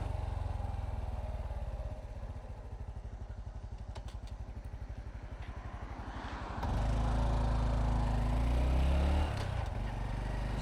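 A Honda Trail 125 motorcycle engine thrums with a rapid, even pulse while riding, then grows louder and rougher partway through as wind rumble builds, heard steadily from close on the bike.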